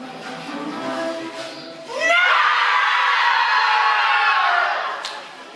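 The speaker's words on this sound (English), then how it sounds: "There's about 50-something people screaming together against injustice, pain, and hopelessness" About fifty people scream together in a group in Uganda, a loud sustained collective yell that swells abruptly after a murmur of crowd voices, holds for a few seconds and then fades.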